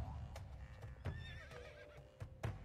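A horse whinnies in a horse-riding video game, with a soft neigh under light background sounds and faint hoof clip-clops. The sound is quiet and fairly distant. Brief talk comes in now and then.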